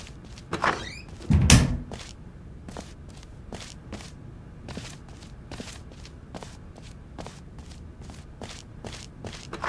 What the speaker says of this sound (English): he entered the door on his left